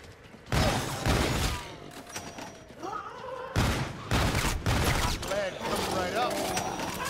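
Gunfire in Infinite Warfare Zombies, two long loud bursts of rapid automatic shots with smaller scattered shots and game noises between, heard close with someone talking over parts of it.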